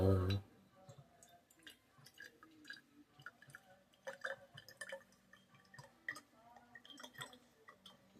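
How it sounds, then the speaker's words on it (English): Freshly made homemade coconut oil poured slowly through a strainer spoon into a jar, giving soft scattered drips and light clicks, quiet and close. "I want to be careful just to pour it in this jar"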